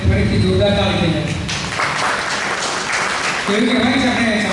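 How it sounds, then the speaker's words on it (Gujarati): An audience at a senior citizens' centre event in Surat bursts into loud clapping, the applause swelling in the middle between stretches of a voice over a loudspeaker. "આપણે ફરીથી જોરદાર તાળી થઈ"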